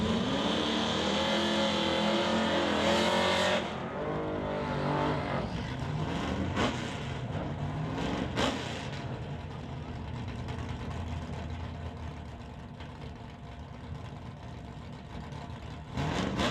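Cars in a National Tire non-electronics drag racing final at Mission Raceway, engines roaring loudly at launch, then fading as they accelerate away down the strip, with the crowd and track ambience behind.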